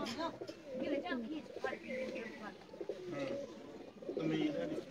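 Pigeons coo steadily in repeated soft, throaty phrases at close range, with someone talking over them throughout.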